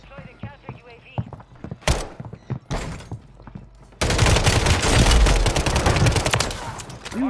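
Video game gunfire in Call of Duty on Rebirth Island, with a few sharp isolated shots followed by a long loud burst of rapid fire, while a player talks over it.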